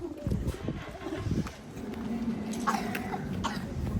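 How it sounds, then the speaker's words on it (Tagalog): A young child coughs several times in quick, rough bursts, close by, with an adult speaking and background household noise around it. "Ubo na lagi ba?"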